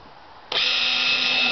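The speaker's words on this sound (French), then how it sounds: "je vais prendre une visseuse avec une mèche de 8. Je vais faire donc 4 trous" Cordless screwdriver-drill fitted with an 8 mm bit starting up to bore a hole for a wooden Asian hornet trap, a loud steady high whine that switches on abruptly after a quiet moment and holds alone.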